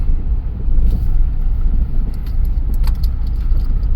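A Ford Escape backs out of a home garage with a loud, steady low engine rumble up close and faint light jingling clicks on top.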